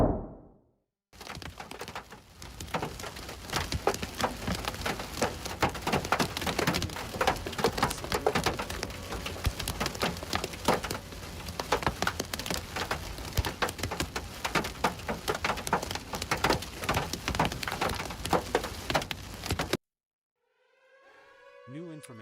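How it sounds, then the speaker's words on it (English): Hail and heavy rain pound surfaces during a severe thunderstorm, a dense, steady clatter of sharp impacts that goes on for about twenty seconds, with a whistling siren-like tone audible faintly in the mix. "They are getting smacked with hail."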